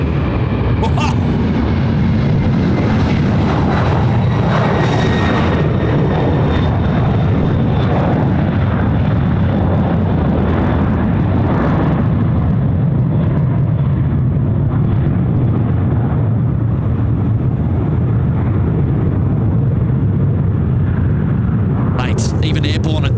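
A Boeing 767-300 freighter takes off at Sydney Airport, a loud, sustained jet roar with deep low rumble that fills the whole stretch, while someone talks excitedly over it.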